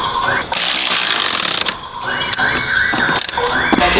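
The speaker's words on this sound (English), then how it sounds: "now we're gonna tighten up all the bolts" A ratchet tightens coilover bolts on a Lexus IS300, giving rapid, loud bursts of close clicking that stop and restart several times.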